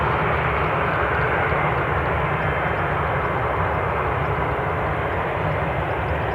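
An aircraft departing Newcastle International Airport gives off a steady, loud, broadband engine roar that stays even and unbroken throughout, with no voices over it.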